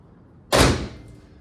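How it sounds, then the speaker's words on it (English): The door of a 1973 Dodge Charger gives one sharp, close thunk with a quick metallic decay, followed by quiet. "There you get the door open."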